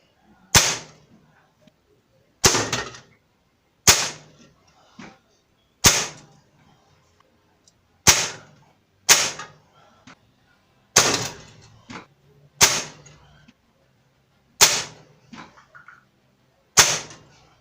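Air rifle shooting RWS Super Mag wadcutter pellets, eleven sharp, loud, close shots spaced a second or two apart, each a crisp crack with a short fading tail and the odd faint click between them.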